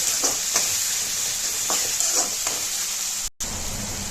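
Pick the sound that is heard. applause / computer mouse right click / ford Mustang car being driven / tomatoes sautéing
tomatoes sautéing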